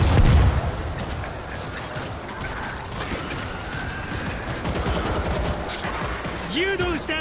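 Heavy gunfire from large weapons in the zombie shooter World War Z on a cruise ship level in Tokyo, a dense continuous barrage of shots with a brief descending tone near the end.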